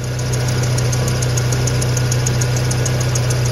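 A Mazda Miata engine fitted with a new Dayco balancer idles steadily and loudly after starting, with a constant low droning hum and a faint rhythmic ticking running throughout.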